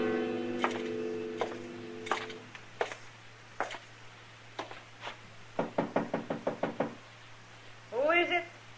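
Sharp knocks rap on a door in a Western radio drama, first a few spaced knocks over a steady tone, then a rapid run of about eight raps, followed by a brief voice.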